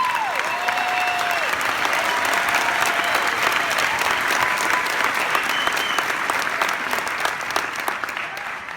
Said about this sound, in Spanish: Give yourself and your dreams a round of applause.